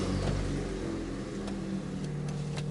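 A 1998 Honda Civic engine runs with a steady low rumble and hum just after being started, close and continuous throughout.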